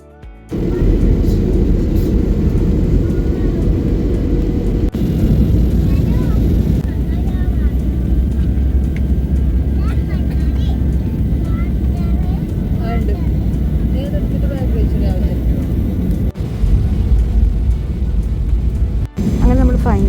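Steady, loud airplane cabin rumble persists throughout as a flight descends toward Kannur International Airport in Kerala, with only faint hints of voices beneath the constant drone.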